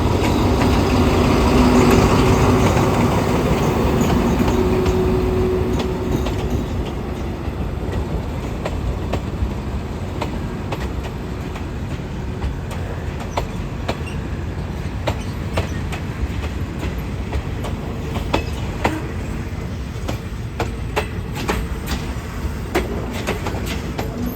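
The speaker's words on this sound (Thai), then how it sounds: "341 341 ไปทางชุมทางแก่งคอย เที่ยวเวลา 17นาฬิกาตรงนะครับออกจาก ต้นทางกรุงเทพหัวลำโพงครับ" An SRT suburban train, number 341, at Bangkok Hua Lamphong station: a loud, steady rumble of rolling railcars with rhythmic clickety-clack of wheels over rail joints and occasional sharper clanks, continuous throughout.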